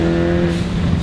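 A Ford Focus ST fitted with an E30 engine cruises on a highway, with a steady interior drone of engine hum and road noise from inside the cabin, with no one talking.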